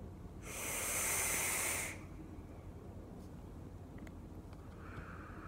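A long hissing exhale of e-cigarette vapour from a 50/50 peach iced tea e-liquid at 3 mg nicotine, one steady breathy rush of about a second and a half, close and fairly loud, followed by quiet room tone.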